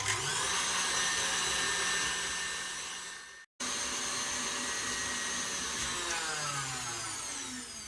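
Electric mixer whisking egg yolks, a whole egg and sugar for ladyfinger biscuits, a loud continuous whine with a shifting pitch, cut by one brief dropout midway.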